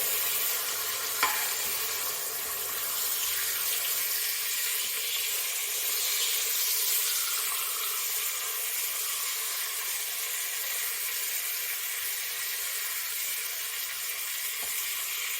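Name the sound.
chicken sizzling while being flipped in an Instant Pot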